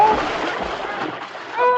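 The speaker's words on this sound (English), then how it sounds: "Suddenly, the ice gave way." Radio drama effect of ice giving way and a body plunging into icy water: a continuous broad splashing, sloshing wash lasting the whole moment, fairly loud and close, with no voices over it.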